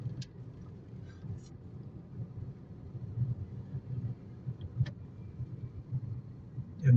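Low, steady rumble of street traffic with cars around Araneta Avenue and Roces Avenue in Quezon City, a continuous muffled drone with a few faint higher clicks and bumps.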